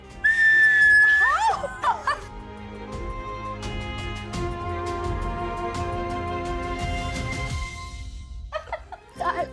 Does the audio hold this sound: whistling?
yes